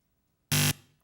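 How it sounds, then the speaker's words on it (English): Quiz show end buzzer marking the close of a joust round, one short loud harsh electronic blast of about a quarter second, followed by a fading tail and silence. "And there's my buzzer, and that means the end to the joust."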